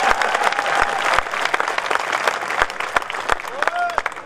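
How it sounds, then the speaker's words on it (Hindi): Audience applause at a Hindi poetry recital in Bahadurgarh, a steady crowd of clapping that carries through with scattered voices and a brief whistle-like tone over it. "जब तक ताली बजा दो।"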